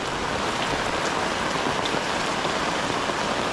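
Heavy rain pouring down steadily during flooding at a house, a dense, constant hiss of drops hitting surfaces, loud and close with no pauses.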